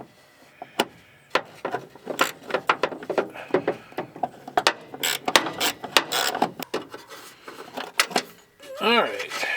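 Small clicks and clacks from a 7mm ratchet backing a little bolt out of a Chevy/GMC truck, a close, irregular series of sharp ticks with brief pauses, a voice breaking in near the end.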